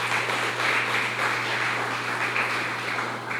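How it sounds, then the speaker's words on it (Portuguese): A church congregation applauds during a Holy Communion service. The clapping forms a steady, moderately loud wash of sound over a low electrical hum, with no clear speech. "Você pode aplaudir a Jesus por isso?"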